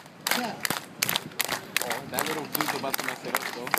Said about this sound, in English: Now for the last time, everybody, clap.